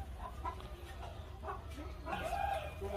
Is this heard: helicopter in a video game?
no